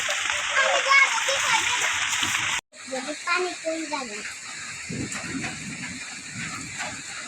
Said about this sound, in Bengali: বৃষ্টি পড়তেছে ভালোই মোটামুটি